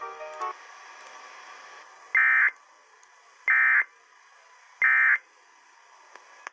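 Emergency Alert System tones play on NOAA weather radio station KIH: three short, loud, evenly spaced tone bursts ring out over a faint background hiss, with no speech between them.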